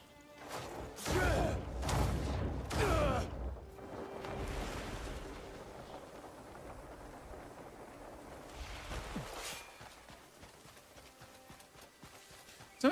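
A horse galloping across open terrain in the video game Crimson Desert, with loud, rhythmic hoofbeats at first that settle into steadier clip-clop over a background of rushing water and wind.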